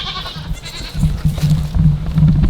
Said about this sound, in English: The neighbor has 2 new baby goats, and they're so cute.